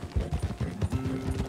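A horse's hooves in the video game Red Dead Redemption 2, clip-clopping in a quick steady rhythm while being ridden, fairly close, with a faint tonal hum entering toward the end.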